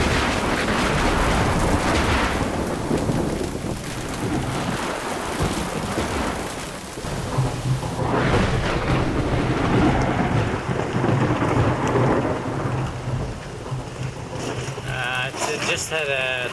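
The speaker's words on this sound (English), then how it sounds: "Just had a tropical thunderstorm." Heavy tropical rain pours steadily while deep rolls of close thunder rumble, loud and continuous, with gusty wind noise swelling and fading, at sea during a sailing race.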